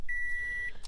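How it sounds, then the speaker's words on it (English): A single steady electronic beep from a key programmer plugged into a 2010-2020 Toyota Tundra, one clean sustained tone lasting about half a second in a quiet setting. "We're going to hear it start beeping."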